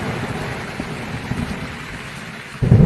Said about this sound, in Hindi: आसमान की गड़गड़ाहट के साथ बरसात शुरू हो गई